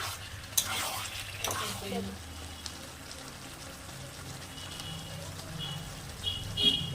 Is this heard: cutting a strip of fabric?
no